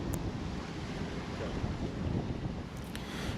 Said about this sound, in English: the wind just whips right across the canal